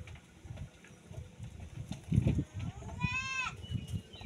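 A goat bleats once, a short wavering call near the end, on a mountainside, amid rustling outdoor noise and low background murmur.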